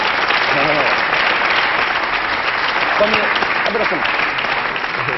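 Studio audience applause on a French television interview, thick continuous clapping at constant level, with a faint murmur of voices mixed in beneath.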